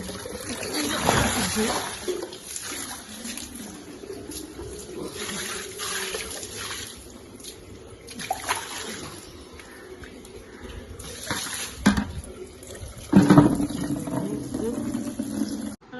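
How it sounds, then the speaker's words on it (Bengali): Running water splashes and trickles as things are washed by hand in the morning, with uneven bursts of pouring and splattering close by and a voice talking at times. "এগুলো এখন জল দিয়ে ধোবো"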